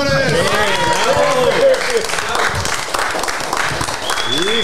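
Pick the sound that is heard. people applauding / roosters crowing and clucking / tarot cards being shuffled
people applauding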